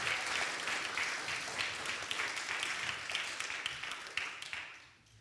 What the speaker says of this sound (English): Let's do a first clap now.